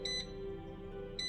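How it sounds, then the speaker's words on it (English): An air fryer beeps twice, two short bright electronic tones at the start and end of a quiet stretch with a low hum between, close by, with no talking. "You hear that beep?"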